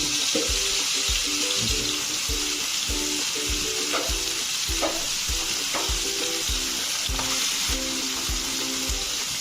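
A piece of steak cooked well done sizzles loudly and steadily in a pan, with broadband frying hiss throughout and a regular rhythm of low thumps underneath, no one speaking.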